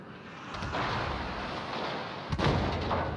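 Secondary battery guns firing aboard the Italian battleship Andrea Doria in World of Warships, a steady rumbling barrage of booming shots with a sharper, louder burst of fire toward the end.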